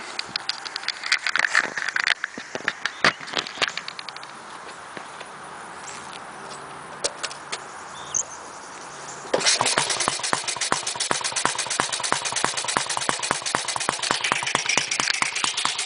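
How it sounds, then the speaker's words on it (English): A 1958 Triumph Tiger Cub motorcycle with owner-done wiring starts after a few faint clicks and quiet handling, then settles into a steady, rapid single-cylinder idle, close and fairly loud. "Let me turn the key on, see if it'll start."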